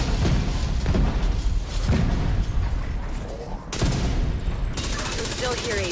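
Video game explosive detonation amid heavy gunfire, with dense rattling bursts and booming blasts throughout, voices talking over the chaos, and a sharp shift in the soundscape near the end.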